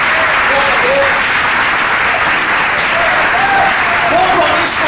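A church crowd claps in a thick, unbroken roar, close and loud, with scattered shouts and voices weaving through the applause.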